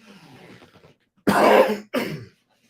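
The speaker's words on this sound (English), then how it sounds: "I'm coughing up a storm here" Two harsh coughs close to the microphone, the first longer and rougher, after a stretch of faint murmuring.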